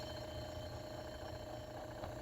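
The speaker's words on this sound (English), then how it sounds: "Soon came the alarm." An alarm rings steadily in a Thomas the Tank Engine cartoon, a continuous buzzing, clock-like tone that holds at an even loudness for the whole moment with no speech.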